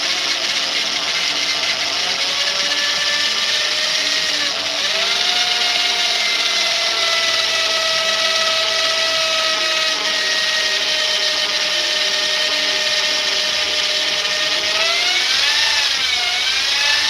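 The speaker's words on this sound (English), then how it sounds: "One thing I do not like about this drill is the chuck does not lock on there very good" A power drill whirs continuously at a high, steady pitch, briefly dipping and recovering twice as the load changes, loud and close with no talking.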